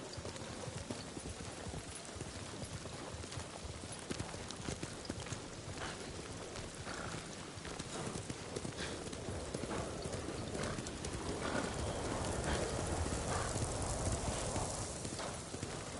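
Horse hooves clip-clopping in the video game Ghost of Tsushima, a steady quick rhythm of hoofbeats on ground over a constant outdoor ambience, sustained throughout at a modest level.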